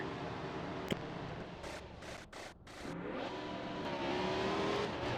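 Race cars roar past at high speed in a NASCAR Cup Series racing video game, with sustained loud engine drone, revving pitch shifts and brief dips as cars pass, continuous and close with no talk.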